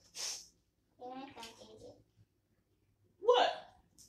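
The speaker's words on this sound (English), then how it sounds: "Allergies, coughing like that." Sudden coughing fit brought on by allergies during a Nigerian food mukbang, a short harsh burst near the end after a soft breathy sound and some low voiced sounds.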